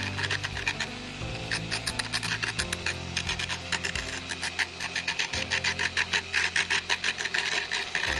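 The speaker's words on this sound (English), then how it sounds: "I'm gonna turn the Dremel way down. Just wanna soften some of these edges because they're sharp." A Dremel rotary tool run at low speed softens sharp edges on a handmade salt and pepper shaker, giving a steady rasping, rubbing grind in continuous pulsing strokes, close and fairly loud with no talk.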